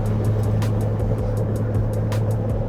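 A Toyota LandCruiser 300 climbs a steep hill at a steady 100 km/h, 7th gear held in manual mode with the torque converter locked. A low, even engine drone sits under constant road and wind roar, with light ticking on top.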